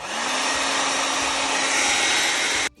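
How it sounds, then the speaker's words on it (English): A blow dryer runs close and loud, drying paint on a picture: a steady, even whirring hum that holds for a few seconds and then cuts off abruptly. "If you have a blow dryer, it would be a great time to get it popping"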